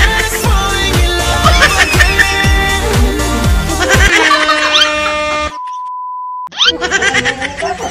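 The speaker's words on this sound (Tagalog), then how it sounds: "Timer, start now!" During a family party game at an eleventh-birthday and New Year celebration, an electronic timer sounds over loud rhythmic music, giving a long steady beep-like tone before the music cuts back in.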